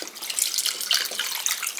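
Chicken broth pours into a crockpot, giving a continuous bright splashing trickle of liquid, close and alone with no talk.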